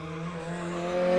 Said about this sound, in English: As we sped away in our car